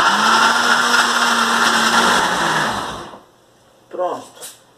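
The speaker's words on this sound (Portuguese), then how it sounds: "Já parti pra tirar o susto do liquidificador." A kitchen blender whirs loudly while blending a savory carrot and oat pancake batter, running steadily for about three seconds before cutting off, followed by a brief voice.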